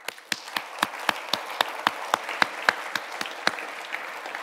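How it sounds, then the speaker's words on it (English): A smattering of hands clapping at a steady beat, a small audience applauding with sharp individual claps standing out. "I would like to give a big applause for Swisscom,"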